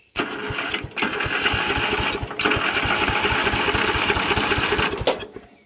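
A small engine with good compression is spun over by a bigger starter, giving a loud, close, rapid rhythmic chugging that runs steadily with two brief dips before cutting off near the end.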